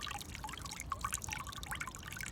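Water pours from a watering can into a bottle, a light, steady trickle with small splashes and drips, faint and close, with no talk.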